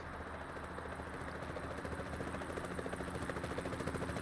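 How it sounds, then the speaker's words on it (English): Helicopter in the American Truck Simulator video game flying overhead, a steady loud rotor drone with rhythmic blade chop growing more pronounced toward the end, heard alone. "Right there in the air, in the helicopter."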